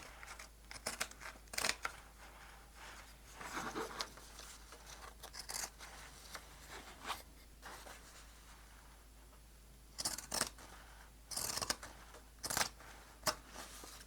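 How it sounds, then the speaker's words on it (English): Pinking shears cutting through quilting scrap fabric in repeated crunchy snips and rasps, close and fairly quiet, with pauses between bursts of cutting and no talking. "grab your pinking shears and cut along this edge"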